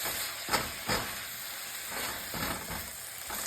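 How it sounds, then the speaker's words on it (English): Chow mei fun sizzling in a wok with a curved wok spatula: a constant hissing fry with a few soft scraping strokes scattered throughout, fairly close, no one talking. "And give that a stir."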